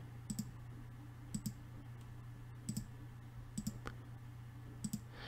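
A computer mouse clicks while working in Inkscape, sounding as five crisp double clicks spaced about a second apart, close and clear over a low steady hum.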